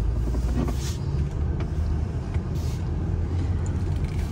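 A 2024 Mercedes-Benz GLS 450 SUV pulls away, heard from inside as a low, steady engine rumble with road noise, smooth and fairly loud without any voice.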